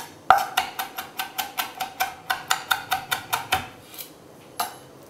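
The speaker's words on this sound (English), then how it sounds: "Cut the stem off and then slice the cayenne in very small slices" Knife finely chopping cayenne pepper on a cutting board, a fast, even series of about fifteen sharp, close knocks, followed by a couple of slower, spaced final cuts.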